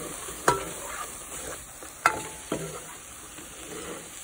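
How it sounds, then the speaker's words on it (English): Taco seasoning is stirred into browning meat in a pan: a soft, continuous sizzle broken by three sharp spoon knocks against the pan, two close together near the end, with no voices. "Here is the taco seasoning mix. Mix it all together."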